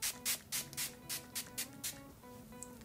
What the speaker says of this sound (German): Dann trage ich mal als nächstes den Toner auf, damit ihr ihn auch in Aktion sehen könnt.